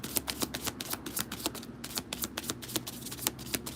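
Tarot cards are shuffled by hand close up, a quick run of crisp riffling snaps and flutters repeating in rapid bursts, quiet and alone with no voices.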